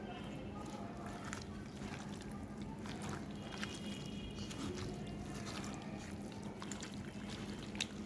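Beef is mixed by hand with oil and spices to marinate, producing faint, continuous wet squishing and smacking sounds.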